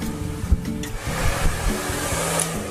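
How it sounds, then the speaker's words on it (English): A handheld blow dryer runs continuously close by as hair is pushed forward and dried, a steady whooshing hum with slight shifts as the airflow moves. "now I'm going to take it and just push all the hair forward with the blow dryer"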